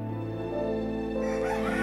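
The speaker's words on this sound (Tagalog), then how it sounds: "Mga manok ito." Chickens gather close by while a rooster crows, a loud, drawn-out harmonic call that rises and wavers over the whole moment, with no talking.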